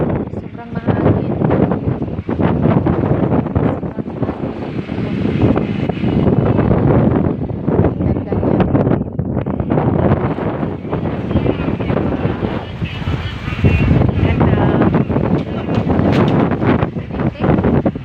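Strong wind by the sea buffets the microphone in loud, continuous rumbling gusts that swell and ease throughout, with no clear break.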